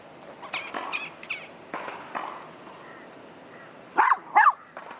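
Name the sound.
dogs barking at a dog park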